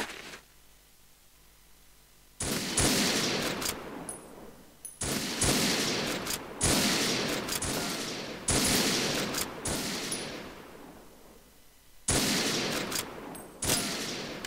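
Automatic gunfire in the online shooter WarRock during a free-for-all match, loud sustained bursts of rapid shots repeating in several long volleys separated by short pauses.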